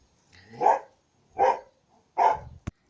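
Dogs playing outside let out three separate mid-pitched barks spaced about a second apart, fairly close and alone, followed by a short sharp knock.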